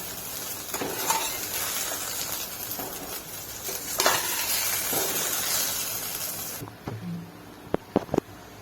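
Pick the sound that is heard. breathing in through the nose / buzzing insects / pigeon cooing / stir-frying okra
stir-frying okra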